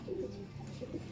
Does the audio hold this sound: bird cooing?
yes